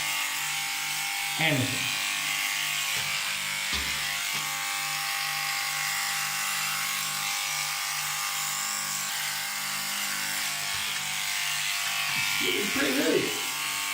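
Electric clippers buzz steadily throughout a home haircut, trimming hair and beard on a balding head, with someone talking briefly over the constant hum.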